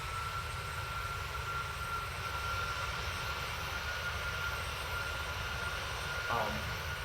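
Aircraft engine in a flight simulator video game during the final approach to Ushuaia International Airport in Argentina, a steady, faint drone with a thin constant whine and no clear changes.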